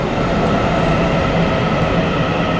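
Local train arriving at a station in the Taiwanese countryside, a loud continuous rumble of wheels and carriages up close, with no voices.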